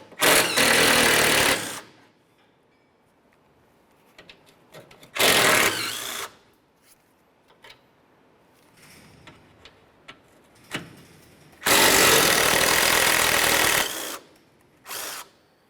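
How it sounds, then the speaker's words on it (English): Power tool spinning out 13mm radiator mounting bolts on a 2005-2010 Chevrolet Cobalt, three loud close bursts of whirring separated by quiet gaps with faint clicks and handling noises. "move along to removing your three 13mm headed mounting bolts"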